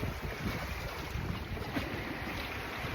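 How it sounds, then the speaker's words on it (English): Water rushing and hissing past a moving boat, a steady broadband wash with wind buffeting the microphone throughout, fairly close and continuous with no talking. "I'm enjoying this beautiful water"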